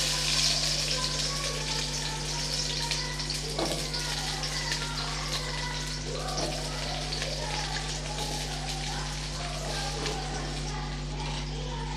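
Drained bitter gourd pieces hit hot cooking oil, giving a steady hissing sizzle like light rain that runs throughout at an even level over a faint low hum.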